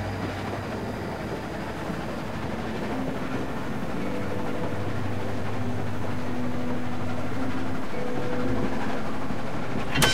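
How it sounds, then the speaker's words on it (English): A train in The Walking Dead video game rumbles steadily with low engine drone and rolling rail noise, continuous and fairly loud, swelling slightly over ten seconds with faint tonal hums. "Stop the train, man."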